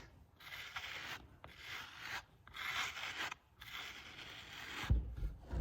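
A tool scraping the edges of a clay cylinder, with repeated raspy rubbing strokes in a steady rhythm broken by short pauses, close up and alone.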